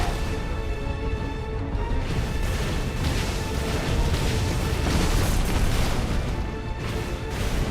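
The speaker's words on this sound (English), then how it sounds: "Hold R2 to emit violent explosion to increase explosion size." A charged Brimstone attack in Final Fantasy XVI erupts as a dense, sustained roar of booming explosions and crashing debris, loud and continuous, overlaid with constant game effects and no voices.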